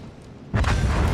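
Naval shells strike a French cruiser, the Colbert, in a warship video game battle. After a moment of quiet, one sudden loud boom bursts in and rolls on as a heavy, rumbling roar.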